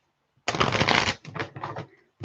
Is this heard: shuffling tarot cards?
yes